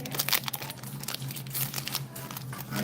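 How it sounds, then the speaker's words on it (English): Excess plastic of a resealable graded card sleeve being folded over: soft crinkling and rustling close by, in short irregular bursts at low volume. "I take the excess and fold it over again just to be extra secure."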